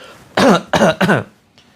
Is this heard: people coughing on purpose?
yes